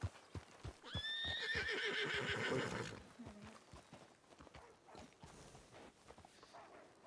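A horse in a ranch-themed roleplay video game lets out a loud, clear whinny lasting about two seconds, accompanied by steady clip-clopping hooves that continue quieter afterward.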